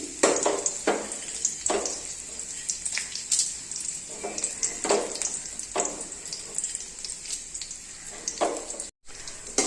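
Urad dal frying in a pan for a coconut chutney, with a steady sizzle and repeated scraping stirs throughout, fairly close, with no talk.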